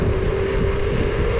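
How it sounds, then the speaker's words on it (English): A Splach Twin Plus electric scooter accelerating hard, a steady loud rush of wind noise with a faint motor whine held level and close for just over a second. "It accelerates real fast."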